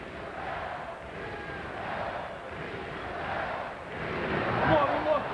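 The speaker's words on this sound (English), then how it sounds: "Crowd's crying, beat U of L" A packed basketball arena crowd at a Western Kentucky versus Kentucky game in Louisville chants "beat U of L", a steady, dense roar that swells toward the end, with someone talking over it.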